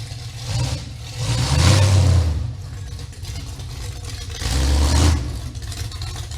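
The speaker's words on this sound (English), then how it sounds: "see another 80s kicker class car backing in behind us." A 1980s kicker-class car at a demolition derby backs in nearby, its engine rumbling at idle and swelling twice into louder revs, with no talk.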